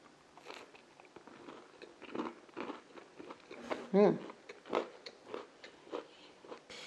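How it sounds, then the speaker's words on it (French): Crisp bites into crunchy Greek koulourakia Easter biscuits fresh from the oven, a series of close, sharp crunches and chewing sounds spread through the clip, with one louder bite near the middle. "Ils sont bien croquants, ils sont bien croustillants."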